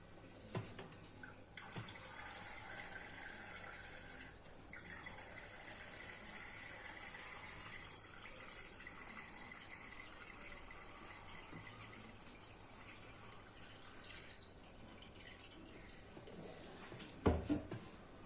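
Orange blossom water poured in a kitchen for a pastry makes a faint, close trickle with a few soft splashes and light clinks, with no voices.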